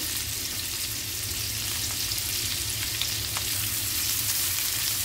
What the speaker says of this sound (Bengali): এরপর ভালোভাবে নেড়ে চেড়ে পেঁয়াজটা লাল হওয়া পর্যন্ত অপেক্ষা করব